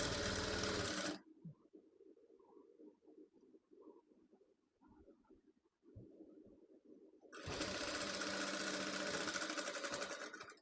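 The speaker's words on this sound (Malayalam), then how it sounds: "ഈ സെൻറ്റർ ഭാഗത്ത് കൂടെ ഒന്ന് ജസ്റ്റ് ഒരു സ്റ്റിച്ച് കൊടുക്കുക കേട്ടോ" Sewing machine stitching the neckline of a nightdress on canvas, a fast loud whirring run that stops, quieter handling and fabric shuffling between, then another long steady run of stitching.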